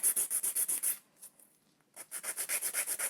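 Rapid, even strokes of a nail file across the top of an acrylic nail, a bright scratchy rubbing rhythm that pauses for about a second and then resumes at the same steady pace, close and alone.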